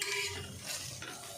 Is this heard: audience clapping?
no